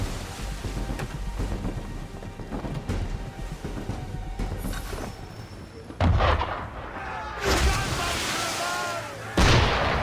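Ship cannons boom in the naval game Assassin's Creed III Remastered, heavy low blasts landing at intervals over a backdrop of rumbling water and wind, with characters talking in between.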